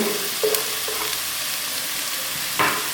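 Chopped green chillies sizzle in a pan, a constant close crackling hiss with a few scraping stirs, quiet and without any talk.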